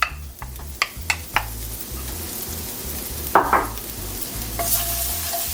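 Freshly minced garlic, about three cloves, sizzles in roughly a tablespoon of oil in a pan, a steady close fry broken by several sharp utensil clinks and stirring scrapes, with no talk.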